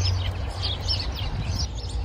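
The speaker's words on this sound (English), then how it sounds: "Yan yung mga birds." Small birds chirp in the trees of Auckland Botanic Gardens in spring, a string of faint, high, rapid tweets repeating over a steady low outdoor rumble.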